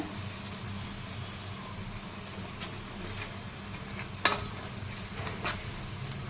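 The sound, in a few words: paste frying in oil for chicken gravy curry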